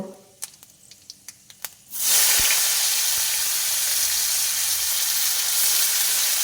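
Chopped onion dropped into hot oil already crackling with panch phoron five-spice, cooking for a Bengali potato-and-prawn curry: a few sharp spice pops, then a sudden loud, steady sizzle that holds close and continuous.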